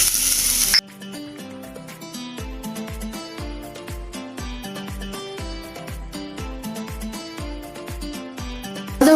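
Ginger garlic paste hits hot oil for Chicken Manchurian, giving a short loud hissing sizzle at the start before music takes over.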